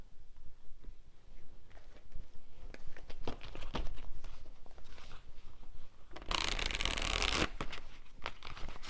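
Tarot cards being shuffled by hand before a final card is drawn, close, irregular papery riffles and slides that build to a dense, rapid flutter near the end, with no voices.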